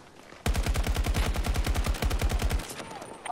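Rapid automatic gunfire in a Battlefield shooter game fires as one loud, close burst of evenly spaced shots lasting about two seconds, then cuts off abruptly.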